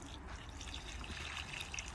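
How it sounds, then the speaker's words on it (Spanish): Water trickles and pours onto the soil around a newly planted rose bush, a steady close gurgling stream that runs alone for the whole span. "ahora le voy a agregar el agua"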